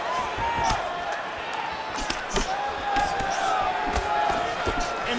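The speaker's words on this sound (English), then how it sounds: "the chants of Diaz ring through the crowd" Arena crowd at a mixed martial arts fight chanting for Diaz, a rhythmic roaring chant with sharp impacts and crowd noise, under a commentator's steady talk throughout.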